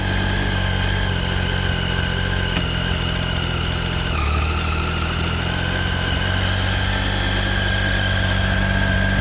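A Triumph Tiger 800 XRt motorcycle idles steadily in first gear, a continuous close mechanical drone with a brief dip in pitch midway, with no talk over it.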